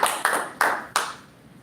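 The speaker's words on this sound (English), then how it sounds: "And we put your hands together for Sadiq." At a leadership training session, four loud, echoing claps ring out in quick succession, each decaying into the room before the next, with no talking.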